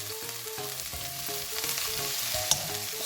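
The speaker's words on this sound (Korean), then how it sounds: "살살 또 숨이 죽을 때까지 또 볶아줄게요" Cabbage stir-fries in a pan with onion and carrot, producing a steady close sizzle and gentle stirring, with one sharp click near the end and a faint tonal hum underneath.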